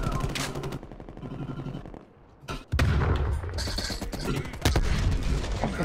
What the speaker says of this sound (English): Fucking stun grenade.